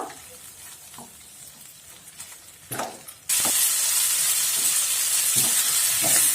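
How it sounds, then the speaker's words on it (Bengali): Chicken gizzards stirred in a pan over high heat: quieter scraping and stirring at first, then a loud, steady frying hiss that takes over abruptly and stays constant. "এই যে হাই তাপে আমি চার পাঁচ মিনিট ভালো করে নাড়াচাড়া করে নিয়েছি"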